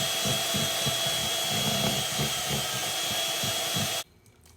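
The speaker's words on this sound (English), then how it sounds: "I want it smooth, so I'm going to whisk it." Electric whisk beating thick, lumpy lemon icing for a lemon and raspberry cake until smooth, a steady close motorized whir with rhythmic pulsing that cuts off abruptly near the end.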